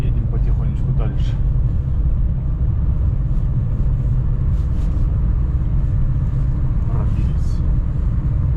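A car moves slowly through a snowstorm after a pike fishing trip, a steady low engine rumble with wind and muffled road noise, as someone talks over it.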